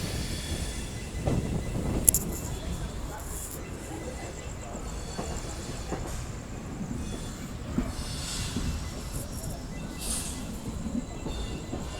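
A passenger train pulls out of Mysuru and picks up speed, with steady rumbling wheel noise, occasional clicks and faint high squeals, heard from on board.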